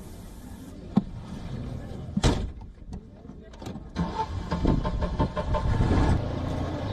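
A vintage two-seater Citroën 2CV sits with its engine idling and shifting, a low mechanical hum that swells toward the end, joined by a few sharp clicks and knocks, while a person talks over it.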